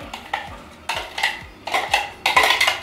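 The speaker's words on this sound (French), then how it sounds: "je vais d'abord battre mes œufs" Eggs beaten in a salad bowl, a fork or whisk clinking against the bowl in quick bursts of sharp taps and scrapes, close up and fairly loud, with short pauses between bursts.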